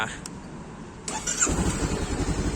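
A 2021 Honda CB500F motorcycle engine cranks and catches after a moment of quiet, then settles into a loud, throbbing idle close by.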